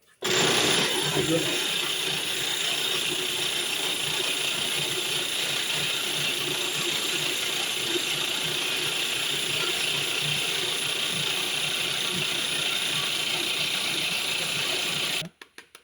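A small coffee roasting machine runs with a steady, loud mechanical whir and rattling churn, starting abruptly and cutting off near the end.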